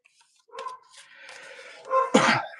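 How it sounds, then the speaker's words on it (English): A dog barks upstairs in a house, a few muffled, distant barks rising near the end, with quieter indoor rustling and vocal sounds before them. "my dog's barking up there"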